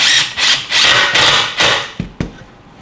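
A 1.5-inch screw driven into a pre-drilled hole in wood with a power driver, several loud whirring bursts in quick succession, then two short sharp knocks as it seats.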